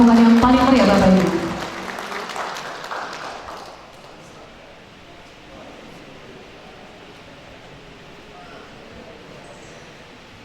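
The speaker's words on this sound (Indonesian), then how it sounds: "kita berikan tepuk yang paling meriah Bapak Ibu" An audience at a Red Cross (PMI) inauguration ceremony in Dumai claps briefly after a voice over the speaker system; the applause swells for a moment, then fades into quiet room noise.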